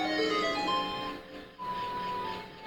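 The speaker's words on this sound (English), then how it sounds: "this is the sound of a lullaby" A lullaby melody from the Zelda Ocarina of Time video game, a gentle tune of high, clear sustained notes over soft background music, played alone at moderate volume.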